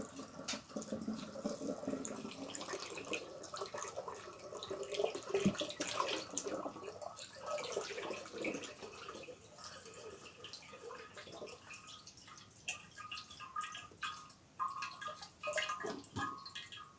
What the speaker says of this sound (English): So I'm going to pour it until it gets to the neck.